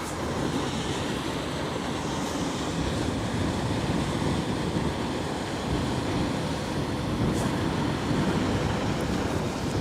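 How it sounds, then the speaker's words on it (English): Water churns and rushes steadily as a 400-metre container ship passes along the Westerschelde, a broad, continuous wash with wind noise, heard from the nearby shore. "It's also nice how I hear the water a lot better. The water being pushed around."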